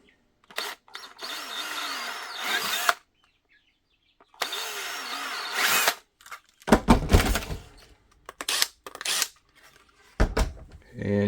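A power drill whirs in several short bursts separated by pauses while drilling slots in a Sig P320 paddle holster, with louder grinding and clattering near the end.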